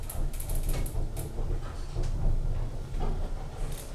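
A shaky Armor traction elevator running, a low rumbling hum with rattling and clattering mechanical noises throughout, steady and close, with no talking.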